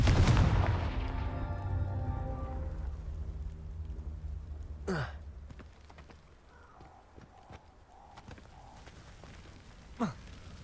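Confringo spell blasts in Hogwarts Legacy: a loud explosive burst that rings and fades over several seconds, then two sharp whooshing strikes a few seconds apart.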